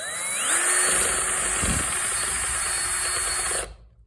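A power drill whirs steadily at high speed driving a screw into wood, its pitch rising as it spins up, then cuts off abruptly, leaving quiet.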